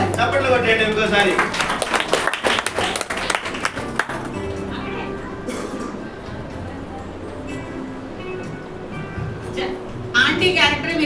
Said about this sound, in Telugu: చప్పట్లు కొట్టండి ఇంకోసారి.